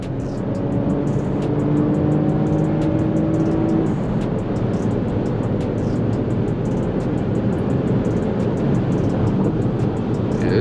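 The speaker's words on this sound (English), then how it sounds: "Let's go ahead and give it some gas." A 2023 Lexus ES 350 is given gas, its engine note rising in pitch under a loud, steady roar of road and engine noise, heard from inside the car without talk.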